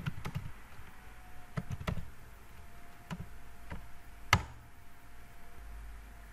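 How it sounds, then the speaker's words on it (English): A password is typed on a computer keyboard in a quiet room, a handful of sparse, light key clicks at irregular intervals, one louder tap near the end. "I am typing my password."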